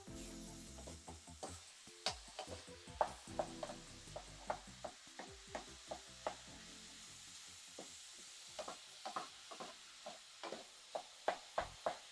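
Minced beef browning in a pan for lasagne, the sizzle broken by repeated scraping and mashing strokes that give sharp clicks and knocks at an uneven pace. The pan is close and the sizzle stays fairly quiet, with no talking.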